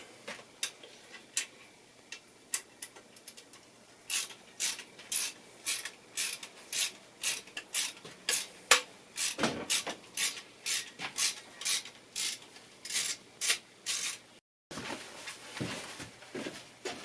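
A screwdriver backs screws out of a server chassis, giving a close, rapid run of ratcheting clicks in short regular bursts, with a brief pause near the end before the clicking resumes.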